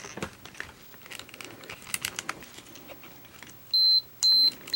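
A Minolta X-700 35mm SLR camera gives two loud, high electronic beeps near the end, following a run of light mechanical clicks and handling noises.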